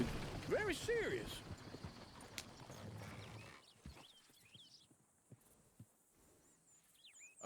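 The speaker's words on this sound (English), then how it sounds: "Oh, shit, the horses! Damn horses!" Horses in Red Dead Redemption 2, hooves clip-clopping and a horse whinnying near the start, then scattered hoof steps at lower volume, with people talking throughout.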